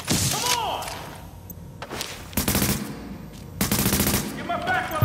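Gunfire from automatic weapons rattles in bursts during a firefight in the video game Tom Clancy's The Division, loud and close, with sharp thuds between volleys and shouted voices over the shooting.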